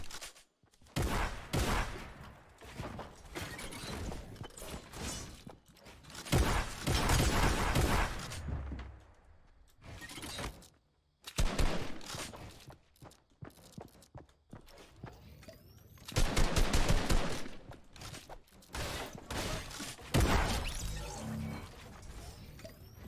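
Gunfire in the Fortnite video game, including a sniper rifle, bursts of rapid shots and single cracks separated by quiet gaps, mixed with in-game footsteps and effects.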